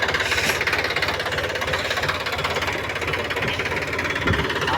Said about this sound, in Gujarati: એક ટાયર ઉપર ટ્રેક્ટર ફેરવી રાખ્યો છે